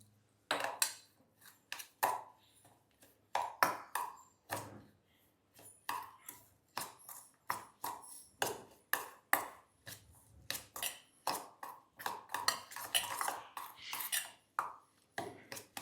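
Grated garlic and salt are worked into a homemade pickle in a bowl with quick, rhythmic scraping strokes, close and fairly loud, repeating steadily with short gaps and no speech.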